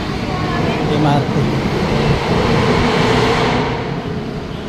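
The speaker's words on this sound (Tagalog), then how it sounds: "MRT." An MRT metro train rumbles steadily nearby with a continuous rolling roar, and a voice talks over the noise.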